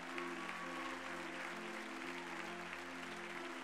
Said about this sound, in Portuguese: Só se você crê, aplauda ao Senhor por isso então.